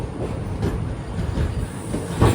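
Boat Mail Express train pulling out of Rameswaram railway station toward Pamban on the island line, a steady close rumble and clatter of carriages that swells louder near the end, with no voices.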